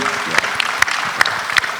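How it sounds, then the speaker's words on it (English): An audience at a business roadshow event applauds, a brief burst of close, dense clapping with a few sharper individual claps standing out. "A round of applause for him."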